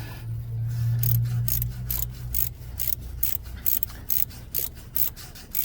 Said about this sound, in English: This is a 10 mil, yeah. I just got a little 1/4 inch drive here.